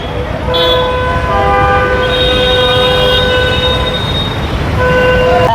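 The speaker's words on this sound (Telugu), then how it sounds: "ఇది ఆజ్మీర్ రైల్వే స్టేషన్" A train at Ajmer railway station sounds its horn in long, steady, overlapping tones over a loud rumble of rail and platform noise, with the horn pausing briefly before sounding again.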